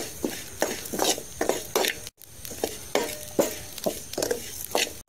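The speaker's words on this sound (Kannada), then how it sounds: "ಮೆತ್ತೆ ಹಾಗೆ ಜೀರಿಗೆ, ಅದೆರಡನ್ನು ಒಟ್ಟಿಗೆ ಫ್ರೈ ಮಾಡಿಕೊಳ್ಳುವ" Fenugreek and cumin seeds being fried together in a pan for rasam powder, with repeated rhythmic stirring scrapes and a soft sizzle, close and fairly quiet with a brief pause midway.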